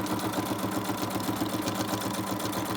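A sewing machine running a lengthened straight stitch on envelopes, a steady fast mechanical chatter at even rhythm, close and continuous with no talk.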